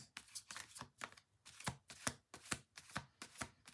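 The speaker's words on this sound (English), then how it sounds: "2 more shuffles." Rapid riffling bursts of cards being shuffled, repeated in quick rhythmic succession, close and fairly quiet.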